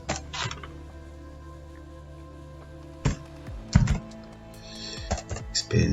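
Computer keyboard keys are tapped while entering chart labels into an Excel spreadsheet: a few clicks early, then a quiet pause, then a burst of close, crisp keystrokes in quick irregular clusters.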